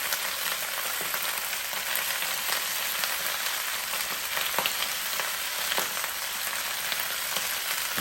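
Oxtails sizzle as they brown in a Power XL cooker, a steady dense hiss with faint pops and crackles throughout and no one talking.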